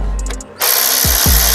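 A KIMO 12V cordless electric ratchet wrench, 3/8-inch, on a bolt: a short quiet stretch with faint clicking, then the motor starts up loud and close and keeps running, with a couple of heavy knocks.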